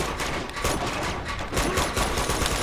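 Shotgun fire from the video game Uncharted 2, a rapid fusillade of blasts packed together and continuing steadily, loud and close against a dense backdrop of game noise, no voices.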